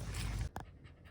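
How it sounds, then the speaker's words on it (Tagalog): A wet dog panting after getting soaked and playing, short breathy puffs close to the mic in a brief stretch with a sharper breath near the middle and no talk. "Laro pa rin kahit hinihingal, ah."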